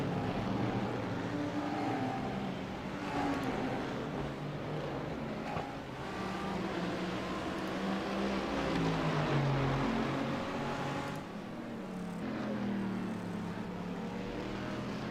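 GT1 and GT3 race cars at Mid Ohio, engines droning continuously as they run side by side down to turn 3, pitch rising and falling through shifts, sustained and fairly loud with no talk.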